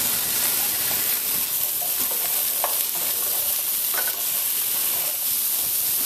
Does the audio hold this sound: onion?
yes